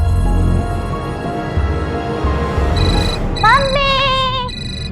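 A mobile phone rings in a domestic drama scene, its melodic electronic ringtone chiming clearly near the end over a low background bed.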